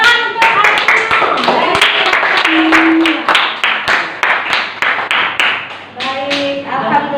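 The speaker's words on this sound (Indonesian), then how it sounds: "Tepuk tangan untuk Albino." A school class claps for a classmate during a lesson, many pairs of hands striking in a quick, uneven patter close by, with children's voices calling out through the applause.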